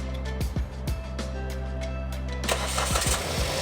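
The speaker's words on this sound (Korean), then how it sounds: "시동 걸어봐." A Kia Ray car engine cranks and starts close by during a battery voltage test: a steady low hum with repeated clicking knocks, then the engine catches and rises into a brighter running roar near the end.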